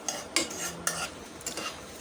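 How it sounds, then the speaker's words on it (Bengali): Dried red chillies frying in hot oil in a pan, with a few sharp clinks of a utensil against the pan and a soft sizzle underneath, close and fairly quiet. "দিয়ে দিচ্ছি শুকনো মরিচ। শুকনো মরিচটা আমি একটু ভেজে নেব।"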